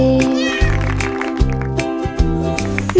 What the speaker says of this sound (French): Le chat ronronnait de joie et de bonheur.